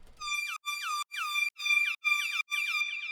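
A synthesized tone pattern repeating in six even pulses, each a bright chirping sweep with sustained harmonics, clean and electronic with short gaps between.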